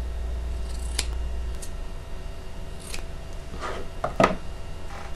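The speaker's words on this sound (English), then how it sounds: "cut the fabric, just the batting. I'm just cutting off the big pieces" Scissors snip through fabric batting for a weighted blanket in a few sharp, separate cuts over a quiet room background.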